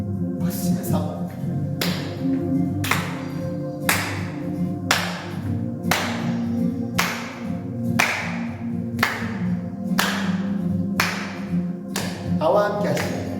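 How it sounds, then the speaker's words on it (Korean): Children at a kids' worship service clap along with a song in steady, evenly spaced sharp claps, about one per second, over music and singing. "박수치면서"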